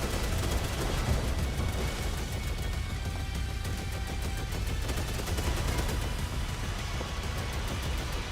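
Sustained, dense video-game gunfire rattles through a live stream of titles such as Slots & Daggers and Neon Inferno, a steady loud barrage of rapid shots with no speech.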